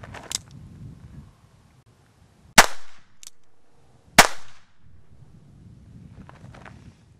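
A derringer pistol fires two sharp, loud gunshots at an outdoor range, about a second and a half apart, each with a short echoing tail, with wind rumble and faint handling noise between them.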